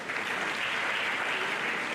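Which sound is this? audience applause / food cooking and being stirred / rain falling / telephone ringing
audience applause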